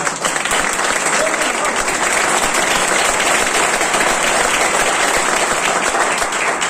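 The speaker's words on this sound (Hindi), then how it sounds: "ताली बजाओ।" Steady, dense applause from a large crowd at a Vestige business opportunity seminar, filling the whole stretch at an even loudness with no pauses.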